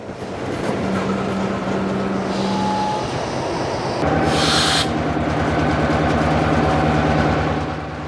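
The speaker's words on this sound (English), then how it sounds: "never has it happened that the train actually had to go past me to clear the switch" A freight train rumbles past near a switch in the Miami area, a steady low roar of rolling cars with a sustained horn or whistle tone and a brief hissing burst midway.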